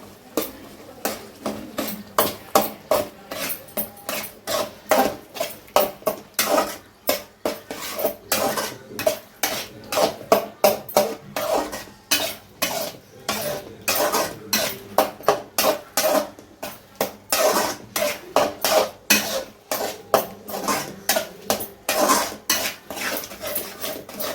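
A spoon scrapes and clanks repeatedly in a pan as masala egg bhurji is stirred, close rhythmic metallic strokes continuing throughout with no talking.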